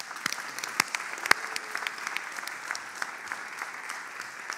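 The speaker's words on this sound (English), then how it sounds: "let's give our high diploma students a big round of applause" At a hotel school graduation ceremony, an audience applauds diploma students with a soft, distant bed of clapping punctuated by a few sharp, nearer claps standing out.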